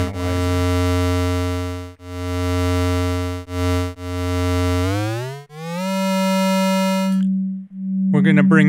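A signal generator produces a steady sine-wave carrier tone for an amplitude modulation demonstration. It is a loud, continuous hum that breaks briefly a few times, then glides upward and settles into a higher pitch.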